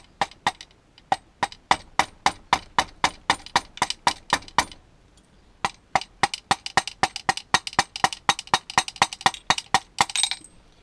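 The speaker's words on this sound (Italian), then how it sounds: "Con il martello di gomma andiamo a aprire carte." Rubber mallet strikes on an open engine block's casings, a rapid series of sharp, evenly spaced taps with one short pause midway, loud and close with no talking.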